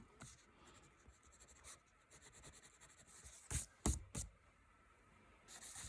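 Pencil shading and hatching on paper while drawing a two-point perspective city: a faint, continuous scratch of graphite strokes, with a few short, louder bursts of quicker hatching near the end.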